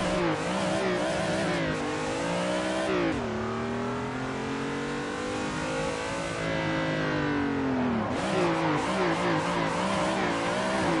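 In Assetto Corsa, a BMW's engine screams and revs up and down while drifting, with pitch rising, dipping at lift-offs around three and eight seconds, then climbing again, and tire noise mixed under the continuous loud drone.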